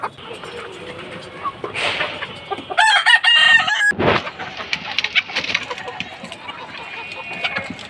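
Laying hens kept on a rooftop cluck and a rooster crows loudly near the middle, amid scattered close bird calls and rustling, while a person talks over parts of it.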